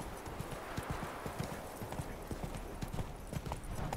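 In The Witcher 3, the horse Roach gallops with rapid rhythmic hoofbeats, close and continuous, over ambient game sound.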